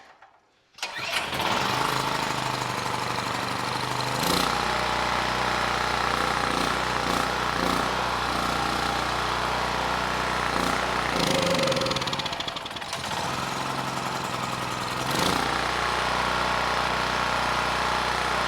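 A Champion generator engine is pull-started and then runs steadily at half choke, a loud, close, even mechanical drone with a few brief surges in pitch and no talking.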